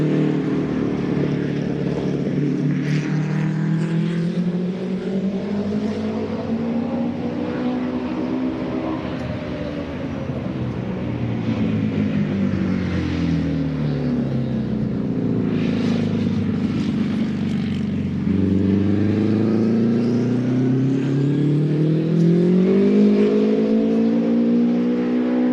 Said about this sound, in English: Let's listen in on one of those Offie engines here in this Samsonite machine.